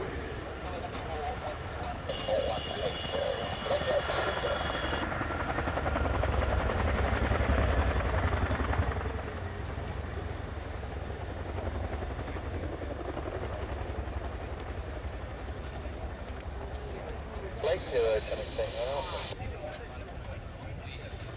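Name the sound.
Royal Air Force Chinook HC.5 helicopter at air display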